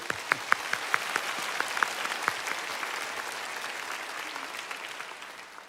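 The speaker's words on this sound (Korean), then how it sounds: "우리 박수 한번 다시 합시다." Congregation applause at a Korean church's dawn revival service, a moderate wash of clapping with a few sharp individual claps standing out early, gradually fading toward the end.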